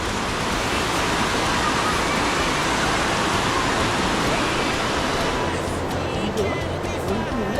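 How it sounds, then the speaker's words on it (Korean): Rushing water roars steadily and loudly in Norway, a dense, unbroken wash of white noise that holds for the whole stretch. "엄청 시원한 물소리"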